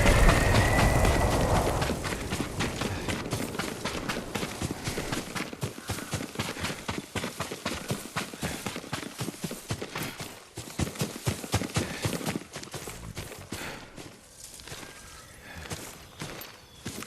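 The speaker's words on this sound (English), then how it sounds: "Yuriko's horse." A horse's hooves clip-clop across the ground in the game Ghost of Tsushima, a steady rapid run of hoofbeats that slows and thins out toward the end, over a soft ambient bed.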